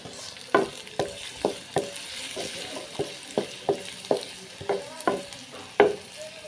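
Garlic and onion frying in a little oil in a pot, soft sizzling under a regular series of distinct scraping clinks from stirring, about a dozen strokes at a steady pace, close by.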